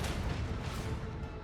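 A macro cannon volley in Warhammer 40K: Rogue Trader booms out as a dense, rumbling barrage of heavy blasts that rolls on without pause for the whole short stretch.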